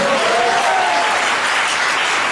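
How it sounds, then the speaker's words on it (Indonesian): Vigorous audience applause at a seminar in Pekanbaru, a thick continuous wall of clapping from a large crowd, loud and unbroken from start to finish. "kurang kuat tepuk tangannya"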